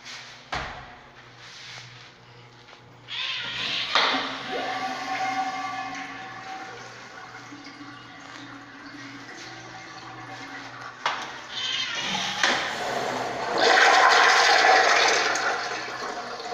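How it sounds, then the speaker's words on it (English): A public restroom toilet in a shopping mall gives a strong flush, a long loud rush and swirl of water echoing off hard walls, then a rising refill hiss near the end, with no talking. "Nice flush on this toilet."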